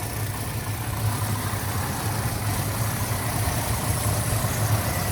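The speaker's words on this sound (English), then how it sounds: "Very strong running car." A restored 1971 Dodge Dart 340 V8 with ceramic-coated headers idles steadily and loudly, a low, even rumble held without revving for several seconds, no voices over it.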